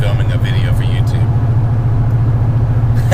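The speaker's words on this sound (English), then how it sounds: "I'm driving down the road" Steady low engine rumble from a car driving down the road, heard from inside the cabin, continuous throughout, with faint talk over it.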